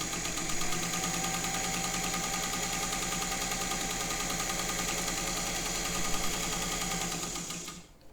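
A Singer 201K sewing machine running fast, a steady close whirring hum with rapid needle ticking, even and sustained for several seconds before winding down and stopping.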